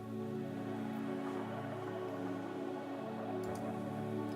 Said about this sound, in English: And the first pad sounds like this.